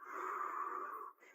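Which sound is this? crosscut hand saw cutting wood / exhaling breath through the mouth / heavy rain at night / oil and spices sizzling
exhaling breath through the mouth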